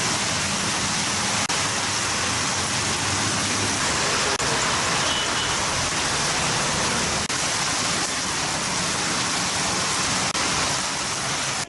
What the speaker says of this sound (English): Heavy rain lashed Colombo suburbs this morning.